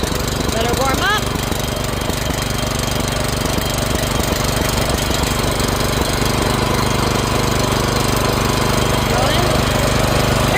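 A Benchmark 212cc gas-powered rotary tiller engine runs steadily and loudly, close up, with a fast chugging, knocking rhythm that never lets up. A voice is briefly heard near the start.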